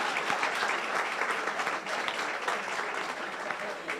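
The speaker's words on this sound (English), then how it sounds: "Round of applause." An audience at a research conference plenary session applauds, a thick, even wash of clapping that holds steady throughout without any voices over it.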